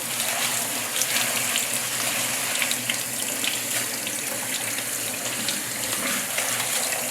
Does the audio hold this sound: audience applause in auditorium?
no